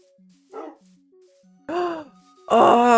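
Dogs in the Minecraft video game bark in three short, separate yelps, the last one loudest, over quiet background game tones.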